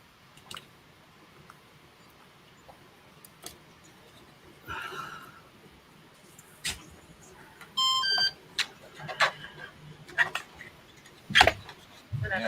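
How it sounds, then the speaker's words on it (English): A toy droid gives a few short electronic beeps and bleeps, with a clustered burst near the middle, amid scattered clicks and handling noises in a quiet room. "Stop beeping at me."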